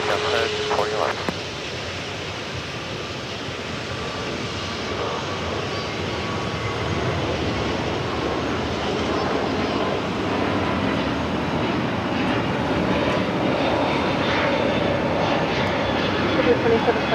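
An airliner taking off from runway 25 right at LAX, a steady broad jet engine roar holding at a constant level for the whole stretch, with radio talk heard faintly over it.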